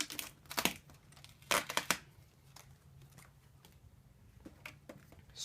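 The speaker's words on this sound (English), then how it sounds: "Speakers, they pop up and slide out just like that." Plastic speakers popping up and sliding out of a Samsung UN29F4000AF 29-inch TV housing, heard as several brief crinkly plastic clicks and scrapes in short bursts, close and fairly quiet with no talking.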